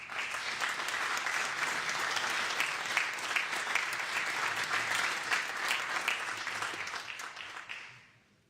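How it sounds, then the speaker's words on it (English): A round of applause from the audience at an awards-style honoree ceremony, steady and full-bodied for several seconds before tapering off and fading to quiet at the end. "let's give him a round of applause"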